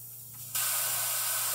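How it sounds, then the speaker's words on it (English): A quiet machine hum gives way abruptly to a loud, sustained hiss of steam blasting from a Breville Barista Express espresso machine's steam wand, close up. "And now it's going to start steaming."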